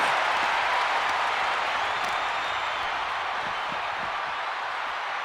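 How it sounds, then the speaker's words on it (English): Capacity arena crowd roars and cheers in the WWE 2K26 wrestling game around a steel cage match, a dense, steady wall of broadband crowd noise sustained throughout with no individual voices standing out. "And listen to this capacity crowd."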